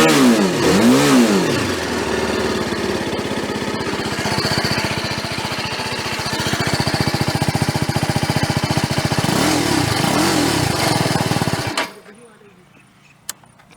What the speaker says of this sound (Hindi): सो अगर मैं बाइक को रेव करूँ तो कैसे आवाज़